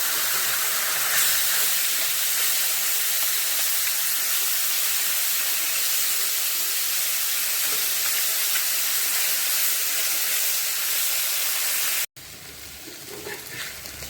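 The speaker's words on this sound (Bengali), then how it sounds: "তেল গরম হয়ে গেছে, মাছ ভাজা মাছগুলো দিয়ে দেবো।" Small fish rubbed with salt, turmeric and chili powder fry in hot oil, making a steady, loud, close sizzling hiss that runs unbroken for about twelve seconds before cutting to a quieter, softer sizzle.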